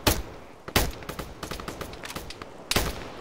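Rifle fire in Arma aimed at a building, several sharp close gunshots cracking out in an irregular burst with short gaps between them, loud and with no talking.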